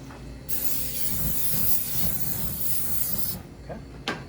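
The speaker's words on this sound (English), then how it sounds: "let me spray the grill first." Cooking spray hisses onto a grill in a continuous spray lasting about three seconds, close and fairly loud, followed by a brief short burst.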